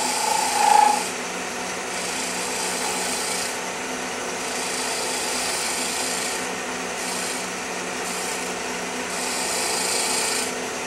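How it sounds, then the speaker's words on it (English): A steel scraper shears across a wooden surface on a bottomless box, producing a continuous close rasping scrape with long, even strokes and a few slight shifts in tone, heard alone without speech. "I'm going to show you a little something on shear scraping"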